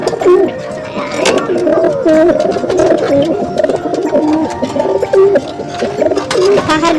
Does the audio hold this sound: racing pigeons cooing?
yes